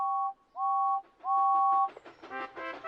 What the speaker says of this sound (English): Then Thomas heard a whistle.